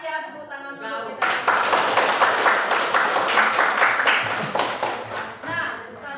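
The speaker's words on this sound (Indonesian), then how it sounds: "tepuk tangan dulu kita" A classroom of students bursts into sustained, dense applause for about five seconds, starting abruptly and tapering off near the end.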